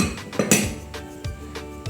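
A small plate set down as a candle base, giving a few light ceramic clinks and taps close by, one sharper knock near the middle, then scattered softer clatters against a quiet room.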